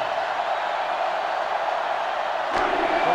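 Roaring stadium crowd in NCAA Football 2005 during a Florida versus Florida State rivalry game, a dense, steady wall of cheering that swells slightly louder near the end.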